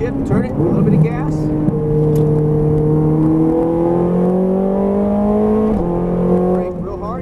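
Loud, sustained engine roar from a Ferrari F430 Scuderia at full throttle on track, pitch rising steadily before a brief shift dip near the end, with someone speaking over the engine.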